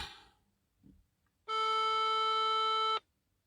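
A telephone line tone sounds as one loud, steady electronic beep of about a second and a half, after a quiet stretch with a few faint noises.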